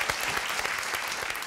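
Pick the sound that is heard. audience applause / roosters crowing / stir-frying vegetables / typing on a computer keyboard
audience applause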